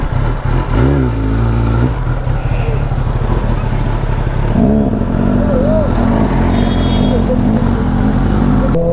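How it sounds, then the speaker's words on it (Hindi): An inline four-cylinder 250cc 25R motorcycle engine idles and revs, with rising and falling engine pitch and clatter close by, heard alongside road noise. "इनलाइन 4 सिलेंडर बाइक है ये, मतलब ये ऐसी बाइक है जो 250 cc में इनलाइन 4 आती है"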